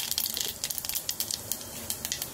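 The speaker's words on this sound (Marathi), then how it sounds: "तेल आपलं तापलं आहे, त्यात एक छोटा चमचा मोहरी टाकू। मोहरी तळतळली का जिरे टाकू।" Mustard seeds splutter in hot oil in a home kitchen pan, a quiet run of quick crackling pops and sizzles scattered irregularly across a couple of seconds.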